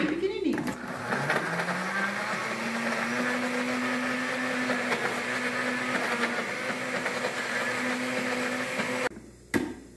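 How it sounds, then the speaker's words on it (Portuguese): Kitchen blender chopping parsley and green onion into small bits, a steady whirring motor hum held for about nine seconds before it cuts off, with a brief clunk at the end. "Vou tampar e bater até triturar bem,"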